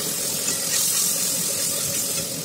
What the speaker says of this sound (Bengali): এখন আমি মিশ্রণটা কড়াই দিয়ে দিয়েছি।